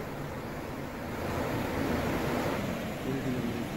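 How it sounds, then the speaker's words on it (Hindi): The flooded Yamuna River, swollen by heavy rain, rushes over a highway bridge on the Yamunotri Highway as a steady, loud broadband roar that swells slightly midway and continues without a break. "यमुना नदी उफान पर है, जिसकी वजह से पानी नीचे ऊपर यमुनोत्री हाईवे पर बने हुए पुल के ऊपर से बह रहा है।"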